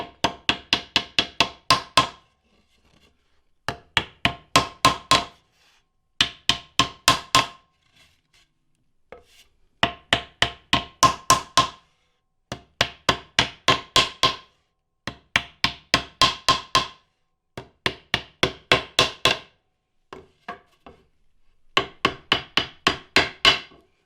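A hammer peens nails against an anvil while snowshoe frames are assembled, striking in quick bursts of about six to eight sharp metallic taps, each burst separated by short pauses, loud and close, no voices.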